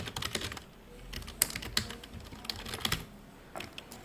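A Python code comment is typed on a computer keyboard: rapid, irregular plastic key clicks, close and fairly clear, with a few brief pauses and no speech.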